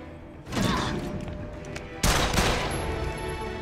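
Bursts of automatic gunfire from security personnel in the horror game The Evil Within 2, two loud volleys close by, the second starting abruptly and rattling on to the end with no talk.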